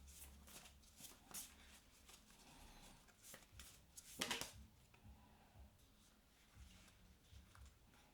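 A card deck is shuffled by hand in soft, scattered riffles and slides, with one louder flurry midway, quiet and close with no talking.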